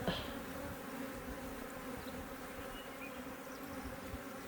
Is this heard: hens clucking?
no